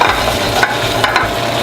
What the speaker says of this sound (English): hot pan, hot oil. When you lay down a piece of fish, you want to lay it away from you so you don't splash yourself.